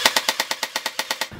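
A G&G CM16 SRXL airsoft rifle on a partially charged 11.1 V LiPo fires semi-auto, about eleven sharp evenly spaced snaps in quick succession, close and crisp, each shot with a mechanical clack and no talking.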